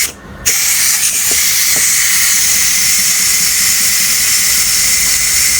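A pressure cooker that has just finished cooking rice vents steam in a loud, continuous, close hiss that starts abruptly after a brief quieter moment and holds steady to the end.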